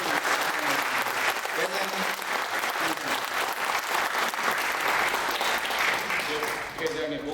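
A congregation at a Korean church prayer breakfast gives a steady, dense round of applause lasting several seconds, fairly even in volume before tapering at the end.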